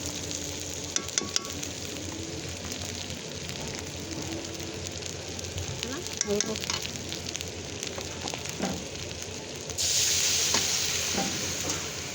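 Taro (kochu) is stirred and fried in a pan on a clay stove: a soft, steady frying hiss with repeated scraping clicks from stirring, swelling into a louder sizzle near the end.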